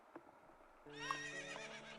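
A horse in The Legend of Zelda: Ocarina of Time lets out a single clear, fairly loud whinny after a quiet moment with faint hoof sounds.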